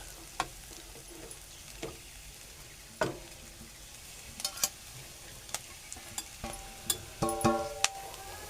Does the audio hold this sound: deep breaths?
no